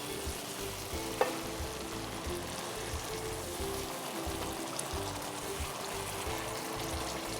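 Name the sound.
water added to mushroom masala frying in a pan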